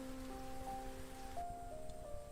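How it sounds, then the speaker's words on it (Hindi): Light monsoon raindrops patter softly in a steady, faint wash, with a few sustained tones lying quietly over the drizzle. "हल्की हल्की बूंदें मेरे चेहरे पर गिरी"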